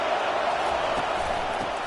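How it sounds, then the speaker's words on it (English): An LSU versus Kentucky football stadium crowd roars as the defense takes the field, a steady, broad wash of distant cheering that stays even in level throughout. "listen to the roar of this crowd"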